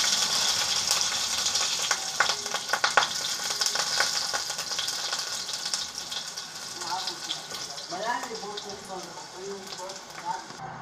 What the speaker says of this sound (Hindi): अब हम इसमें 1 स्पून जीरा डाल देंगे। ये खड़ी मिर्च डाल देंगे।